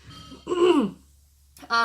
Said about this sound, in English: So, sorry, clearing my throat again.